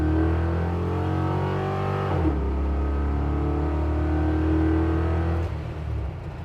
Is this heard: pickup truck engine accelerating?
yes